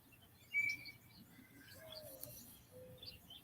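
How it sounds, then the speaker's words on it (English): A western tanager sings outdoors in the cold: a few faint, thin chirps and short whistled notes scattered over quiet background hiss, with no voices. "That's a western tanager."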